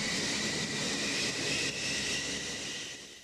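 A Grumman F-14 Tomcat supersonic jet fighter roars steadily as a loud, continuous broadband rush of engine noise that slowly eases toward the end, with no talking.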